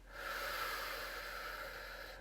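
A slow, steady breath drawn in through the nose during a sophrology vitality exercise, soft and close, a continuous airy hiss lasting a couple of seconds with no voice.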